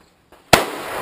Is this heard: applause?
no